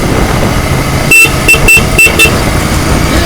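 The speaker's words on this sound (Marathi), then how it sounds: "हॉर्न, मला हॉर्न जाम आवडला." A GT 650 motorcycle horn sounds in a few short bursts close up, cutting through a loud, steady rush of road and engine noise.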